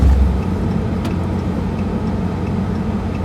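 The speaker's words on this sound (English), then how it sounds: "Yay, blizzard driving." A car creeps slowly along a road in a blizzard, giving off a steady, close engine and road rumble that holds even throughout with no talking.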